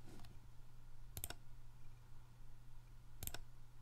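A computer mouse gives a few crisp double clicks, close and sharp, spaced a couple of seconds apart over a faint steady electrical hum, with no talking.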